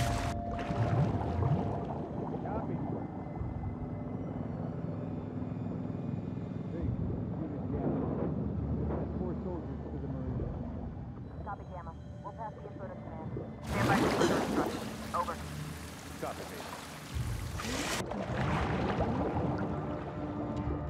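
A boat engine runs steadily in The Last of Us Part II, a low droning rumble under ongoing talk, with a loud burst of rushing noise partway through.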